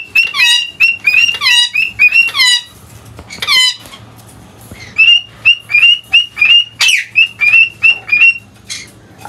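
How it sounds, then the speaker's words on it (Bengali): Pet birds give mating calls as rapid, repeated high squeaks and whistles in rhythmic bursts, loud and close, with a short lull midway before the calling resumes. "পাখির ম্যাটিং কলগুলো"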